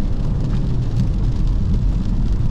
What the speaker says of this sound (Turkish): Şu an dip gaz.